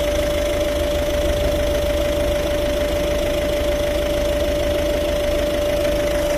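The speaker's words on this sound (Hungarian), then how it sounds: "Itt van ez a TDC motor, tényleg csendes, tényleg finom, és nagyon igazi jó kis dízel hangja van neki." A Ford Focus 1.6 TDCi diesel engine idles close by, a steady low rumble with a rhythmic clatter and a constant faint whine, no voices.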